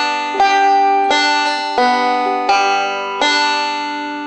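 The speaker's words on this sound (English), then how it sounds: "So slowly, a reverse roll pattern sounds like this." Banjo picking a slow reverse roll pattern, a steady series of bright plucked notes about every half second to second, ringing clearly with no talk over it.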